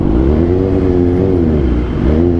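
BMW S1000XR motorcycle with an Akrapovic full exhaust system revving, its loud, close engine note holding steady with a brief dip and swell, rich harmonic drone throughout.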